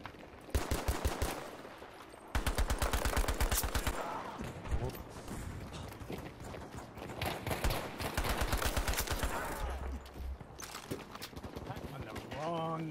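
Rapid bursts of automatic gunfire in a Battlefield 5 World War 2 match, loud repeated volleys with sustained rattling stretches, mixed with game sounds and a speaking voice.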